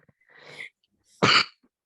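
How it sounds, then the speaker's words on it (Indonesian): A single person coughs: first a soft breathy rasp, then a short, loud, explosive cough close by, with no talking around it. "Batuk lagi nggak apa-apa."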